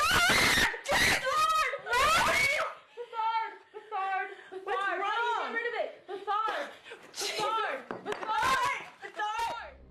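Several people scream in panic, loud and close, with frantic shrieks and chaotic, overlapping voices throughout.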